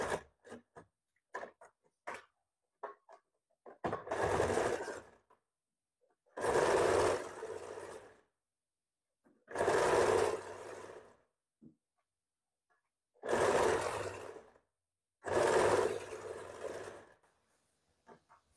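A sewing machine runs in five separate bursts of a couple of seconds each, stitching a folded blouse hem up close, with small clicks and handling noises between runs.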